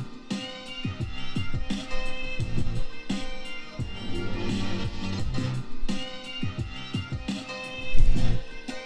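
A sampled drum beat built in FL Studio plays over a looped musical sample, with punchy kicks and snares repeating in a steady pattern across several bars.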